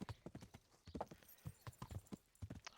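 Horse hooves clip-clopping at a steady walking rhythm in the medieval video game Kingdom Come Deliverance, close and clear, with a brief whinny-like tone near the end.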